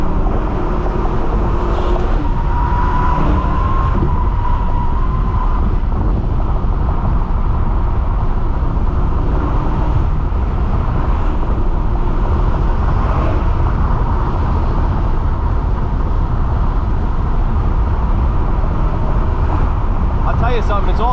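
A BMW M6 fitted with an aftermarket exhaust roars at high revs, a loud, continuous engine drone that holds steady for about twenty seconds with slight swells.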